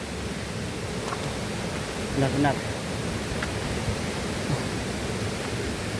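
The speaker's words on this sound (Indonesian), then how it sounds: "Suara sungai, suara angin." River rushing and wind in a valley with a waterfall and hot springs, a constant broadband wash, with a brief spoken word partway through.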